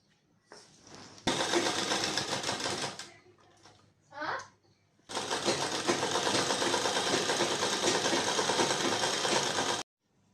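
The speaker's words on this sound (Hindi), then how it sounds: "पहले हम इसे आधे इंच पे इसे पूरी तरह से सिलते हुए पैक कर देंगे" A sewing machine stitches a lined suit sleeve seam in two loud, steady whirring runs separated by a short pause, while a person speaks briefly in the gap.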